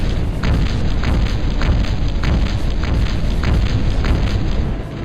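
Gun tower fire in the video game Battlezone '98, a dense barrage of loud, rapid booming blasts and bursts, repeating steadily at close range with no talking.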